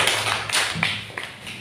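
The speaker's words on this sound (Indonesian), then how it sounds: "Tepuk tangan sekali lagi untuk Selo." A brief round of hand clapping in a school classroom for a pupil named Selo, a short burst of scattered claps from a group of children, fairly close and moderately loud.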